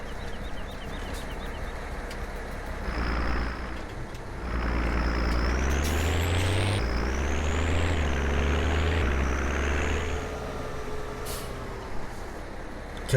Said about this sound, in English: We are going to take this tractor here, and we're just going to start moving some grain around.